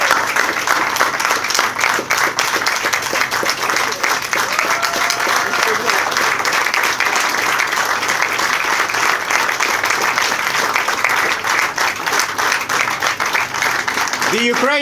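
A packed room at a Ukrainian Constitution Day event in Washington, DC applauds Ambassador Oksana Markarova, a loud, sustained crowd clapping that runs unbroken throughout with a voice talking over it.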